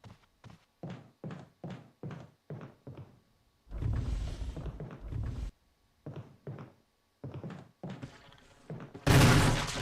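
Gunfire from Resident Evil Remake: a string of sharp, evenly spaced gunshot thuds, then a louder noisy burst, more shots and a final loud blast, heard close and without any talking.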